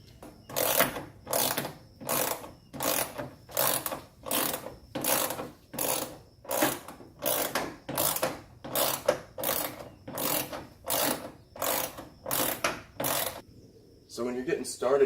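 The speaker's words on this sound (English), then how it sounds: "you're going to use the supplied hardware to screw onto the bolt that's there" Supplied hardware is ratcheted onto bolts while fitting a GT350R-style spoiler to an S550. About seventeen steady, evenly spaced bursts of close mechanical clicking are followed by a brief pause and one more burst at the end.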